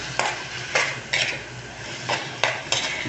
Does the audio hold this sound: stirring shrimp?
yes